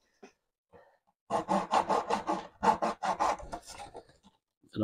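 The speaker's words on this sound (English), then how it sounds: "little bit of sawing in this corner." A hand saw cuts into the corner of a wing mold in a quick run of rhythmic back-and-forth strokes, close and fairly loud, preceded by a few faint scrapes.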